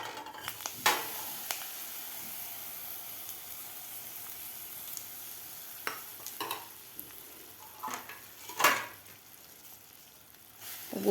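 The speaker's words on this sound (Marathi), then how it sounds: "गूळ घातल्यानंतर व्यवस्थित त्याला हलवायचं आहे. गूळ आपल्याला मेल्ट करून घ्यायचा आहे तुपामध्ये." Chopped jaggery stirred into hot ghee in a pan while it melts for sesame-jaggery laddoos, with a soft continuous sizzle broken by several sharper scrapes and clinks of the spoon.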